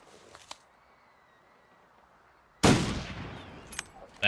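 A single loud, sharp bunker rifle shot from The Long Dark rings out after a stretch of quiet ambience with faint soft taps, followed by a couple of small clicks and a final burst at the very end.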